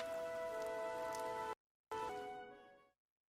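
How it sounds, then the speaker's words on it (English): Steady rain in Fire Emblem: Three Houses plays as an even patter alongside sustained musical tones, cutting out abruptly for a moment, then resuming before fading away. "This rain threatens a coming storm."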